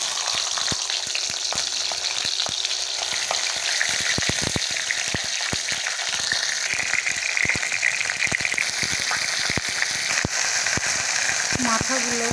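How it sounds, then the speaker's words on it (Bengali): Fish heads fry in mustard oil with a loud, constant crackling sizzle, punctuated by sharp spatters and a few utensil taps, heard up close throughout. "প্রথমে মাছের মাথাগুলো ভেজে নেব।"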